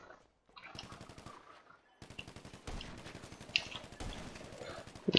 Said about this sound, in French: c'est une sorte de fusil à pompe